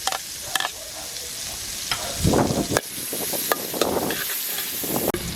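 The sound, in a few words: garlic sautéing in butter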